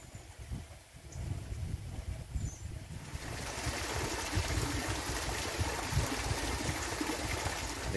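Small waterfall beside a little wooden pontoon at an outdoor spot, heard as a steady rushing splash that swells louder after a few seconds and stays constant, close and alone with no talk.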